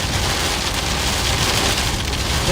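Pea-sized hail mixed with heavy rain pounds a vehicle during an Illinois tornado chase, a loud, dense, unbroken roar of impacts close around, with no talking.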